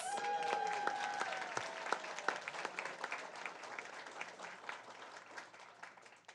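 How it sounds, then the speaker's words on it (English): An audience at a board of education meeting applauds the District Teacher of the Year, a crisp run of many hands clapping that fades gradually toward the end, with a brief tone near the start. "let's give a round of applause to our District Teacher of the Year, Tom Phillips"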